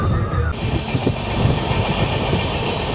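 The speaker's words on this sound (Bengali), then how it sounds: "বলতে বলতে আমাদের ট্রেনকে পার করছে, সম্ভবত কোনো দূরপাল্লার ট্রেন" A long-distance train rushes past close by as the listener rides aboard the Kandari Express from Howrah toward Digha, a loud, steady roar with rattling wheel clatter that holds after a sudden onset.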